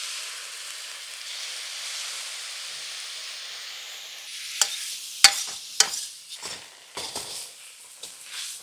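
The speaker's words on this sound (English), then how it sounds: "You're seeing the rice getting nice and crispy now." Rice fries with garlic in a wok on an Impulse wok ring, giving a steady close sizzle and hiss that gives way to sharp scraping stirs and clanks of the spatula against the pan.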